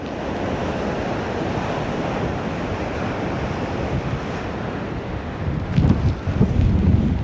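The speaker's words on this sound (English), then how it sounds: "the wind is not that crazy, but the sea is super, super rough" Rough, storm-driven sea surf pounds the rocky shore at M'Scala, Malta, during Storm Harry, a steady roar of waves with gusting wind buffeting the microphone, swelling into louder, nearer crashes toward the end.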